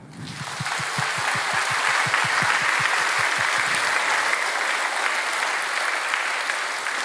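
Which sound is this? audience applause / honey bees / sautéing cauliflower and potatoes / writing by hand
audience applause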